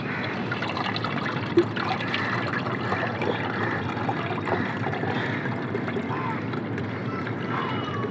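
Water with onion peel and lemon juice being strained, a steady close trickle and splash of liquid that runs without pause, moderately loud, with no clear speech over it.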